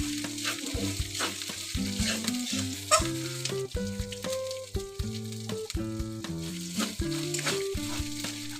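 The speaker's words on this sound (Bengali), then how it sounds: "লো আঁচেই আমি খুব ভালোভাবে আদাটা একটু ভেজে নেব।" Grated ginger fries dry on low heat for a cauliflower kachori filling, a soft steady sizzle with stirring, largely under prominent melodic background music.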